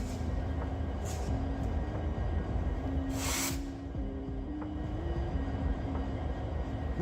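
A Union Pacific freight train rumbles past at close range, with a deep continuous roar, a sustained low tonal drone and brief bright squeals or hisses over it.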